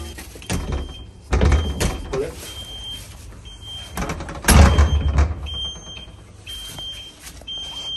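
The door of an abandoned nightclub being tried and forced open: a steady background hiss, then two heavy rattling bangs with deep thuds a few seconds apart, close and loud, with faint voices around.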